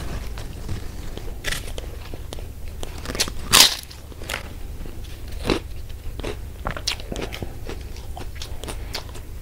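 Someone eating Ternate-style nasi kuning with egg and sambal, quiet close chewing and scattered crunchy bites with one louder crunch, no talk.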